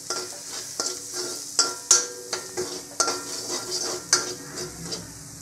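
Red chili powder and masala fry in a pan for a ridge gourd curry, a steady close sizzle broken by repeated scraping stirs and sharp metallic spoon clinks against the pan.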